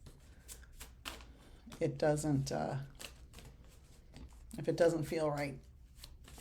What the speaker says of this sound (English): When I do tarot, if I don't have the right shuffle,